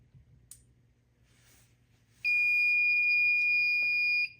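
A home fire alarm system sounds a steady, loud electronic tone for about two seconds, then cuts off, following a few quiet clicks.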